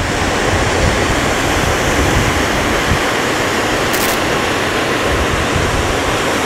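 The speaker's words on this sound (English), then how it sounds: "Look at the water rushing down over there off those waterfalls." Water rushing down waterfalls near Maidenwell, Queensland, after recent rain: a steady, dense roar of falling water, loud and continuous, with no voices.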